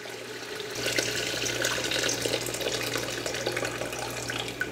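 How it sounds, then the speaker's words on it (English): Hot water pours steadily into a pot of broth for Senegalese thieboudienne, a continuous close splashing gurgle of moderate loudness running alone for a few seconds without talk. "We're going to create a broth by adding some of the hot water to it."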